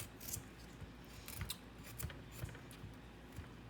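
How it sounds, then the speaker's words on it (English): Knife cutting the brown edges off fresh broccoli stems, with quiet crisp slicing strokes repeating at a steady rhythm, close but faint. "What you want to do is just cut that off. Cut off any parts that you don't want."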